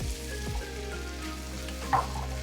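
Ingredients sautéing in an electric wok give a soft, steady sizzle with a few light stirring clatters near the end, fairly quiet and without talk.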